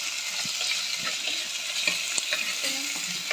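Onion, garlic and curry leaves sautéing in hot oil, a dense hissing sizzle with light stirring clicks and scrapes, heard close and steady.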